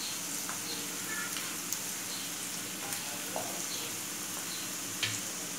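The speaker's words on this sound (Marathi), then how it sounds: "कांदा आणि कढीपत्ता या लाल तेलामध्ये थोडं लालसर होईपर्यंत आपण चांगला भाजून घेतलेला आहे" Onion and curry leaves frying in red oil for paneer bhurji, a soft continuous sizzle with faint crackles and occasional light clicks of stirring, alone without talk.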